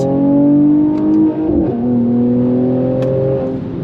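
A 2023 Mercedes-AMG C 43 revs hard from a standstill and climbs through the gears on the paddle shifters, loud and close, with a brief dip as it shifts before pulling on steadily.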